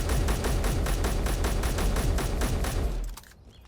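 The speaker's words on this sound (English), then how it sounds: "I'm gonna fire 3 magazines into it" Rapid automatic gunfire in the video game Space Engineers, three magazines emptied in a steady loud stream of evenly spaced shots that stops abruptly near the end.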